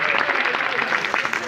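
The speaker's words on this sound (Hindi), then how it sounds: "जरा जोरदार तालियां" An audience at an Indian poets' gathering claps for a poet, a brief loud burst of applause with some voices mixed in.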